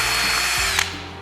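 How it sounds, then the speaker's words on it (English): A power drill whines steadily while boring a hole through a wooden board into a backup board beneath it. The noise is loud and close and continuous, with a brief bump near the end. "and drill straight in"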